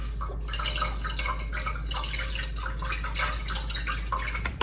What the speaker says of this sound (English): I'm just going to shake it up and just pour the water out